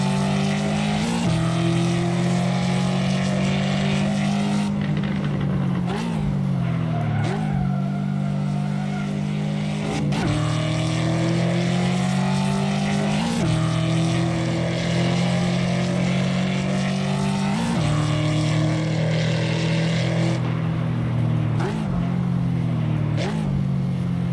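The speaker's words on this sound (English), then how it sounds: "Love the exhaust sound, man. When you gear it down, beautiful noise." A race car in a Ford vs Ferrari battle in the Assetto Corsa video game roars loudly and continuously, its exhaust climbing in pitch through each gear and dropping sharply at every shift, with several downshifts audible.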